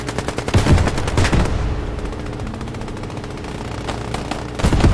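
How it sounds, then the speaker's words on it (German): Game gunfire from the World War II shooter Squad 44 crackles in rapid bursts of machine-gun fire, loud and close at first, then a steady stream of more distant shots, with a sharp burst returning at the end. "Wer schießt da auf mich?"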